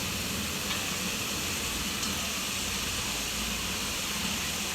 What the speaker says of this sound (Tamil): அதையும் போட்டு இதில் போட்டு வதக்கிடுவோம்.